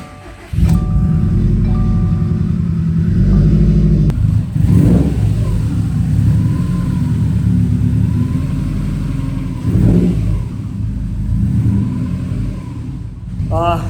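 A freshly built Subaru STI engine runs in a garage at varying RPMs, rising and falling through several loud revs over a constant close rumble, breaking in after its first start.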